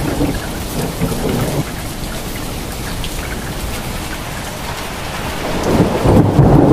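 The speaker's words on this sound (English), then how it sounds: "Pea-sized ice flakes fall among the barren desert." A hailstorm in Mecca's barren desert pours down as a dense, steady hiss of falling ice mixed with rolling thunder, loud and continuous with a swell toward the end.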